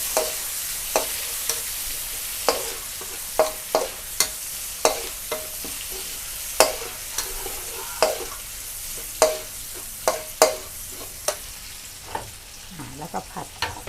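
Garlic stir-fries in a hot pan for a stir-fried chayote shoot dish, a steady sizzle punctuated by regular sharp scraping strokes of a spatula, about one every second, close and clear.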